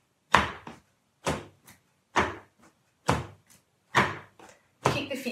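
Feet stamp out a two-beat rhythm for a rhythmic exercise. Six loud, close pairs of thuds repeat at a steady pace about one second apart, each pair a heavy stamp and a lighter one, with silence between.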